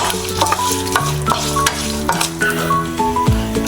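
Cashews frying in a pan of oil for tomato rice, stirred with a utensil in steady repeated strokes over a constant loud sizzle, with a few soft clinks and no talking.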